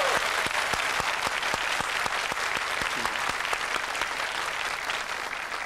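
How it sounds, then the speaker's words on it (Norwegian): An audience at a children's talent show applauds the dancers. Dense clapping fills the room with a few sharp, regular beats cutting through the crowd noise, and it fades slightly toward the end. "Jeg synes også vi skal klappe for danserne dine."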